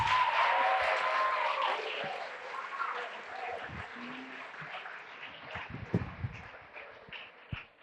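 Audience applause at a Ghanaian senior high school debate contest as Oda Senior High School's competitors are seated, a broad wash of clapping that fades gradually, with a few louder nearby claps toward the end.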